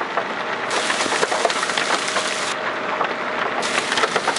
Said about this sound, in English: you can still hear the hail still coming down, pretty good chunks.